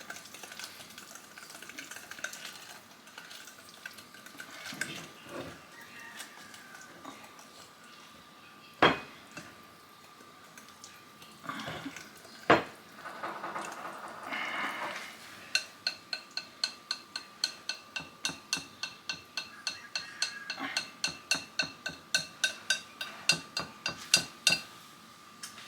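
Banana nut muffin batter is stirred and whisked by hand in a bowl, first with scattered knocks and scrapes, then with a quick, regular run of clinks against the bowl's side, quiet and close.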